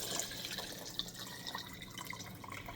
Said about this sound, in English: this is going to probably fill the jar with water